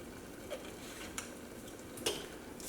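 A spoon stirs salt, pepper and vinegar into a dressing, a soft, faint scraping with a few light clinks against the bowl and no talking.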